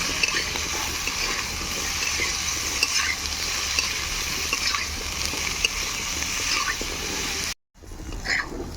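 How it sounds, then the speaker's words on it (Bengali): Sliced potato and eggplant sizzle and crackle in hot oil with turmeric and salt, a loud continuous frying hiss with scrapes of stirring, briefly cut off near the end before resuming. "একটুখানি হলুদ দেব, একটুখানি লবণ দেব, ভালোভাবে লাল করে ভেজে নেব"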